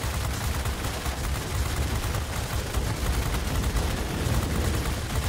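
Rapid, unbroken machine-gun fire from a fighter plane's forward guns in World of Warplanes, a dense, loud rattle that carries steadily throughout with no pauses.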